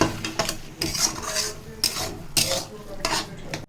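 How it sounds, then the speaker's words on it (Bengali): Vegetables, kochu loti with coconut, being stirred in a pan with a spoon scraping the metal bottom in repeated strokes, close and fairly loud, with light sizzling between the strokes. "আবারও একটু নেড়ে চেড়ে নেব"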